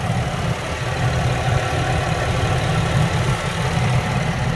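A 2016 Chevrolet Traverse LTZ engine idles steadily, a smooth low rumble with a faint even pulse, close and unbroken, with no voices over it.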